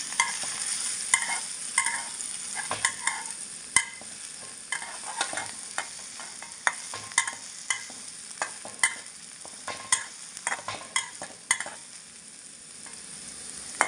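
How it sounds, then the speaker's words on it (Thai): Chopped garlic frying in hot oil in a pan, cooked until golden for a Thai steamed egg dish: a steady close crackling sizzle broken by repeated sharp scrapes and knocks of stirring, with no voices. "จียวกระเทียมให้เหลืองนะคะ"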